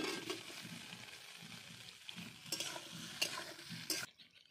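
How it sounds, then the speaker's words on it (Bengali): Peeled boiled potatoes tossed into fried onions in a pan, with soft sizzling and several sharp scraping stirs up close before the sound drops away at the end. "এখন দিয়ে দেবো ছুলে রাখা সিদ্ধ করে রাখা আলুগুলো।"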